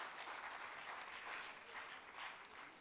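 Sustained loud clapping fills the hall at a National Sports Day 2025 awards ceremony in Odisha, a dense crowd applauding continuously with slight swells in intensity.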